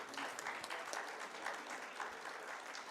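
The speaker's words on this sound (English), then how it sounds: "Give him a big round of applause." Audience applause at a surgical conference in a Karachi hotel, a dense, steady wash of many hands clapping that stays fairly even throughout, at moderate distance.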